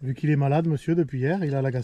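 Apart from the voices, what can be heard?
No everyday noises stand out.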